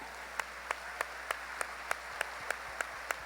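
A church congregation claps together in a steady, evenly spaced rhythm, each sharp clap cutting through a faint background hum at a moderate distance.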